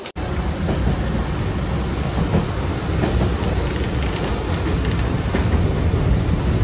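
A Diva–Chiplun MEMU train rumbles steadily along with a constant low roar and faint rattling, loud and close, with no voices.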